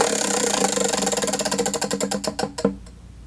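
A prize wheel spins with rapid, close ticking that gradually slows into spaced clicks before it stops, leaving a faint quiet tail.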